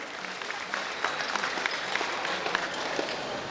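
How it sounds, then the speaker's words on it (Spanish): Applause for the musicians at a village celebration, a soft, steady wash of clapping from a crowd, with a few sharper claps standing out. "Fuerte el aplauso para todos los músicos."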